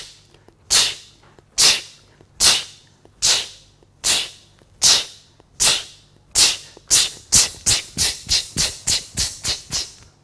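A voice imitates a train speeding up, with sharp breathy 'ch' bursts that start evenly spaced and grow quicker and closer together, loud and alone.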